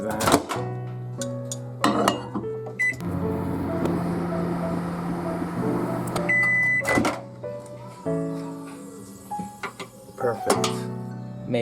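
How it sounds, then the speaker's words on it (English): Microwave oven heating a cinnamon and vanilla mixture, a steady hum broken by clunks of the door and handling, with a beep partway through and voices talking in between. "Now what we're going to do is microwave that."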